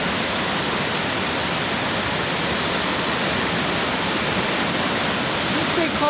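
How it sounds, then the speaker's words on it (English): Steady roaring rush of the Cowshed waterfall at Fillmore Glen State Park near Moravia, New York, loud and continuous throughout. "Found out there's another waterfall called the Cowshed."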